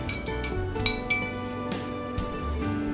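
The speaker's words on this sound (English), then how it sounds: "Now I'll just stir it around" Glass clinks sharply several times as a hand sanitizer mixture is stirred in a glass container, quick bright taps at first, then softer scraping and occasional knocks, close up and without speech.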